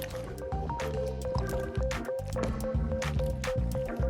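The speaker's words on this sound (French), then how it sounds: "Une fois que c'est fondu, on va pouvoir la verser sur la crème." Melted mixture is poured onto cream for a red velvet cake, making close, wet dripping and squishy liquid sounds that run continuously with small irregular splats.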